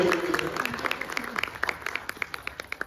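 An audience applauds the dhol-tasha drummers at a dhol tasha pathak's seventh anniversary celebration. The dense clapping starts loud, then thins into scattered individual claps near the end.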